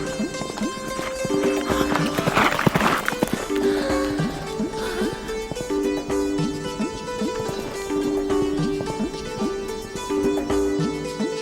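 Horse hooves gallop in a steady, rapid clip-clop rhythm, close and prominent, under layered music and ambience, with a brief whinny early on.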